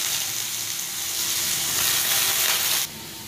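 Potatoes and paneer frying in hot oil in a home kitchen for a vegetarian paneer curry, giving a steady, loud, close sizzle that runs unbroken before dropping abruptly near the end.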